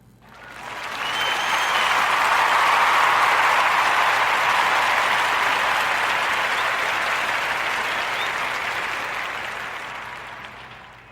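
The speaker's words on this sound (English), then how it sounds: "let's give a warm Narrative Podcast round of applause for young Jared" A warm round of applause for young Jared, who has read 1,000 books: steady crowd clapping swells in after a moment, holds evenly for several seconds, then tapers off near the end with no talking over it.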